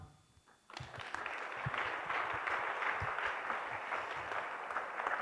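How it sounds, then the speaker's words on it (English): Audience applause for panelists at a Wyoming community climate summit, starting abruptly after a quiet moment and holding as a dense, steady wash of many hands clapping. "Let's give them one more round of applause for everyone"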